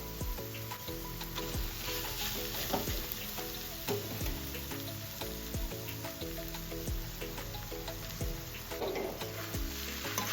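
Cooked, cooled white rice tossed into a hot pan and stirred, producing continuous sizzling with regular scraping and stirring strokes, close and without talk.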